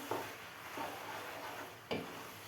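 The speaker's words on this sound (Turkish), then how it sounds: "Şöyle karıştırayım." Food is stirred in a cooking pot with a few soft scraping strokes, quiet and close over a faint sizzling background.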